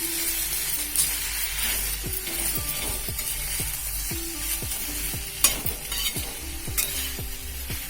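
Taakla, a wild leafy vegetable, dry-roasts in a pan under steady stirring, with a soft, continuous sizzle and rhythmic scraping strokes of the spatula close by.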